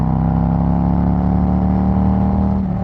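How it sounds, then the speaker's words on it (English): A 2021 Harley-Davidson Road Glide Special touring motorcycle with a TAB Performance exhaust idles and burbles steadily nearby, a loud, continuous deep rumble with no talking. "that tab performance exhaust"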